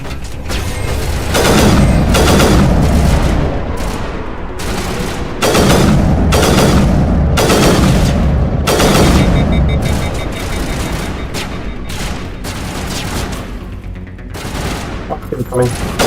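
Heavy gunfire from a Mass Effect Legendary Edition firefight, with loud bursts of automatic fire and booming impacts repeating in waves throughout, dense and close with almost no pause.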